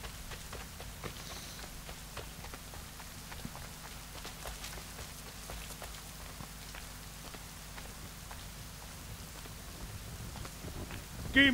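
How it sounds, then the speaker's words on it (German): Rain falling in Assassin's Creed III, a faint steady patter of drops with scattered light ticks and soft footstep-like taps throughout, without voices. "Jetzt regnet, die Erde wird nass."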